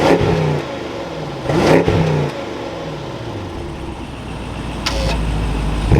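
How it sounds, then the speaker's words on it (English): A 2022 BMW 750i xDrive sedan engine fires up with a short cranking burst and a quick rev that settles into a steady, smooth idle, then another brief blip near the end, close and alone. "inside the 750i, keeping my foot on the brake, we can go ahead and fire it up"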